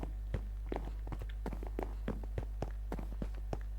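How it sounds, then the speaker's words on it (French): Footsteps in a Minecraft horror game: a steady run of crisp, evenly spaced taps, about three per second, alone over a low constant hum with no talk. "t'as pas entendu les bruits de pas?"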